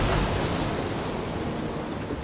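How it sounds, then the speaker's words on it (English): Storm waves break and splash around a kayak on a rough sea crossing, a dense continuous roar of surf and spray with wind buffeting, loud and close. "There is a technique for paddling into waves that stops them splashing into the boat, Saul!"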